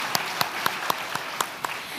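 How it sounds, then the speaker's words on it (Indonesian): A handful of sharp, separate claps from an audience at an Indonesian event honouring children, spaced roughly a quarter second apart over a faint background, with no steady wash of applause. "Boleh saya minta tepuk tangan sekali lagi untuk anak-anak hebat Indonesia."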